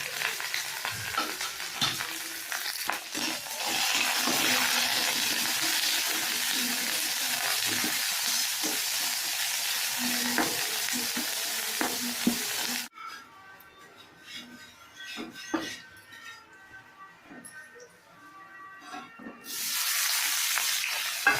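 Urad dal and curry leaves fry in hot oil, a loud, close, continuous sizzle with scraping stirs, dropping to a softer crackle partway through before the strong sizzle returns.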